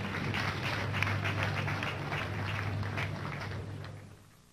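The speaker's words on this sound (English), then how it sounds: "let's clap for her as she comes forward to share her testimony" A church congregation applauds steadily as a woman comes forward to share her testimony. The sustained crowd clapping fades out at the end.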